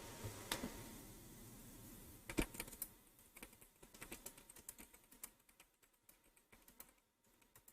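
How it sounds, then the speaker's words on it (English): Fingers type on a computer keyboard in quick irregular clicks and short flurries, with a louder keystroke or two early on. The typing is close but quiet over a faint steady background hum. "Don't mind me tippity typing here."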